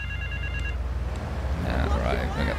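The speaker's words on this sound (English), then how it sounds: "All right, we got the phone ringing." Phone ringing inside the GTA III video game, a few short electronic rings up front fading into layered game sounds and background music.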